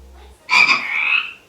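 A frog croaks once, a loud, raspy, drawn-out call lasting about a second, heard alone after a brief low hum.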